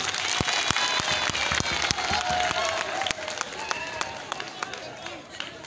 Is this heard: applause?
yes